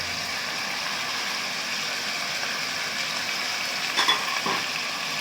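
Spices stirred into a sizzling pan for chicken qorma, a steady close hiss of frying throughout with a few brief scraping clicks of the spoon near the end.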